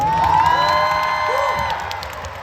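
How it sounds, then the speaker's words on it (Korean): A concert crowd at The Dream Show 2 cheers loudly for the staff, a bright roar of high screams and whoops sustained over the full few seconds and easing slightly at the end. "여러분들 이분들한테도 한번 박수 쳐주세요"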